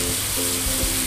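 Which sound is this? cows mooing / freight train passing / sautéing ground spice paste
sautéing ground spice paste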